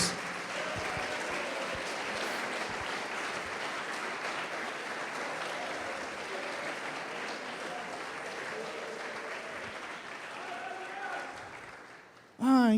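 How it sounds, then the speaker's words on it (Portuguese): A church congregation applauds for about twelve seconds, continuous dense clapping with scattered voices and cheers mixed in, fading near the end before a loud voice cuts in. "Pode aplaudir e glorificar Jesus."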